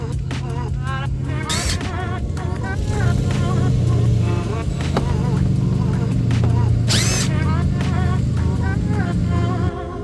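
A power tool backs T20 Torx screws out of a GMC Acadia's wheel well, short high whirring bursts over a running car engine hum, with someone talking throughout.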